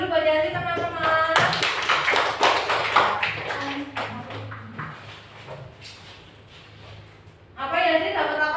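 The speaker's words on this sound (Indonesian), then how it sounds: "tepuk tangan dulu buat Yasin teman-teman." In a classroom, classmates clap for a student called to the front, a burst of uneven hand claps rising after a teacher's voice, then thinning to scattered taps before she speaks again.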